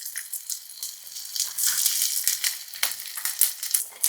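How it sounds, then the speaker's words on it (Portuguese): Shiitake mushrooms sauté in butter over medium-low heat, giving a bright, crackly sizzle that rises and falls in bursts of spitting with sharp little pops throughout. "E agora, o nosso shiitake. Fogo médio para baixo. Dar uma pequena refogada."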